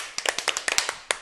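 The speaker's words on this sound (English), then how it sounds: "Everybody clap your hands." Scattered hand claps in a small room, about a dozen sharp, uneven claps over roughly a second, fairly close and not quite in unison.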